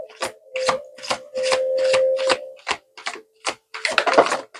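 A deck of cards being shuffled through, a run of quick crisp riffling bursts in steady rhythm, close and fairly loud, ending in a denser flurry with no talk.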